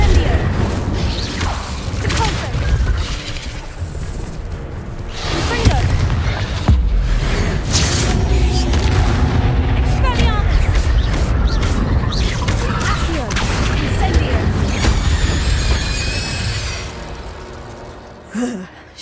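Spell-casting blasts and fiery explosions in the Hogwarts Legacy video game, a dense run of booms and crashes over rumbling game sound for nearly twenty seconds, with a loud burst near the middle and another near the end.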